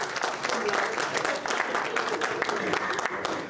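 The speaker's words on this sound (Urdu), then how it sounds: "تالی تو بہت اچھی ہے" Audience clapping at a London farewell party for Dr Israr Hussain: steady, fairly dense applause from a crowd indoors, with a voice speaking over it.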